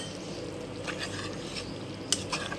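Coriander and mint being stirred into chicken aloo biryani in a pot, a soft continuous scraping and mixing texture with a couple of brief clinks near the end, fairly quiet and without talk.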